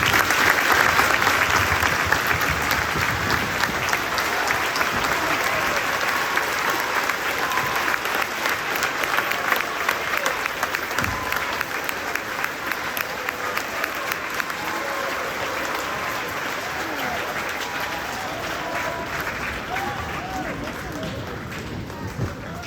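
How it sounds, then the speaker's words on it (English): Sustained audience applause at a school Veterans Day assembly honoring Marine veterans, dense steady clapping from a large crowd that holds loud and even throughout, fading slightly toward the end. "Let's give these Marine veterans a hand."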